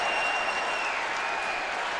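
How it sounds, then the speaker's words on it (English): Roaring NFL stadium crowd at a Packers vs Bears game, a continuous dense wall of cheering and applause with a faint whistle tone, steady and loud with no break. "Now that the crowd gets into it"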